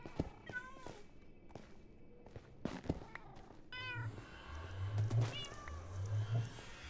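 Cats in a wild survival video game meow repeatedly in short rising and falling calls, fairly close, with some footstep-like thuds and low rumbling noise building toward the end.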